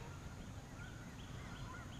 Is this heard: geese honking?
yes